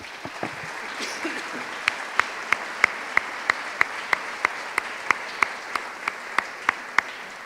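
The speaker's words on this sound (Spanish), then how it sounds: "Vamos a una ofrenda de palmas al Señor." In a Sunday church service, the congregation gives an offering of applause: a soft wash of clapping settles into a steady rhythmic beat of sharp, evenly spaced claps at roughly three per second.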